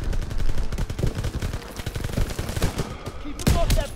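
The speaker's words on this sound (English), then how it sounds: "MGs, open fire." Machine guns firing in Call of Duty WW2 during a street battle in Paris, dense rapid bursts of loud close gunfire rattling continuously, with other shots and battle noise layered around them.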